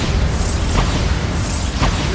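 A Bombarda explosive spell in Hogwarts Legacy bursts amid a loud, dense wash of combat noise, with muffled booms and sweeping magical whooshes layered continuously.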